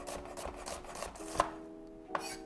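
A knife thinly slices onions for a fish head curry, giving soft rhythmic cuts on a board that end in a couple of sharper knocks, close and quiet with no one speaking.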